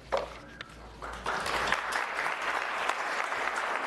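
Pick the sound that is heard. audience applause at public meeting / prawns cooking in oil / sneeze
audience applause at public meeting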